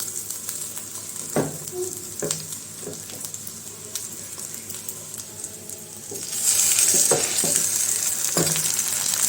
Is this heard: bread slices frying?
yes